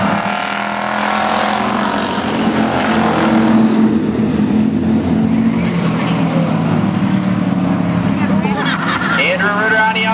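Streetstock race cars roar around a dirt oval track in a loud, continuous engine drone with passing surges, while an announcer calls the race over the top.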